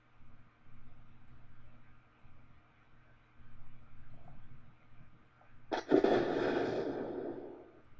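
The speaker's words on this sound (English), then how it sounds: "great, we've got an explosion." A video game explosion set off by a proximity trigger in CryEngine 3 bursts suddenly after quiet room hum, then trails off in a long, noisy rumble.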